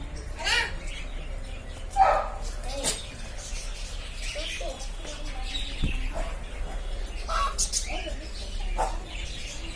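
Chickens cluck and a bird calls intermittently over a busy outdoor background, with a dog barking once or twice and people talking nearby.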